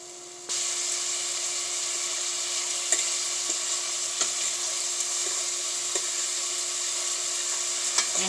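Celery, onion and garlic sautéing in a pan, giving a steady, even sizzle throughout, close and fairly loud, with a few faint clicks scattered across.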